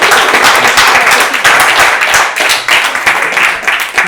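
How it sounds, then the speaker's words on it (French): A room of attendees at a French town council meeting breaks into sustained, dense applause, loud and steady throughout the few seconds with no talk over it. "Merci, on peut l'applaudir."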